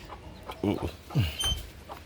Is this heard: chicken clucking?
yes